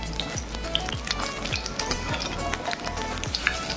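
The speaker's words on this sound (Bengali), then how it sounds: "ভেজে নেব দু সাইডটা উল্টে পাল্টে।" Lentil fritters (dal bora) fry in hot oil over a medium-high flame with a steady, close crackling sizzle, while soft taps and scrapes sound as the fritters are pressed and turned.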